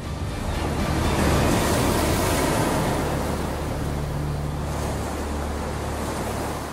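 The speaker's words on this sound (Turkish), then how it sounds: "Koskocaman, metrelerce yüksekliğinde bir dalga hızla iç kısımlara kadar giriyor ve önüne çıkan her şeyi yok ediyor." A huge tsunami wave several metres high surges inland, a dense, loud roar of rushing water and wind that stays steady throughout, with no voices present.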